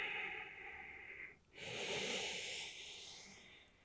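A slow, steady exhale during an intermediate yoga breathing sequence, breathy and hissing, close to the microphone, starting after a brief pause and trailing off gently.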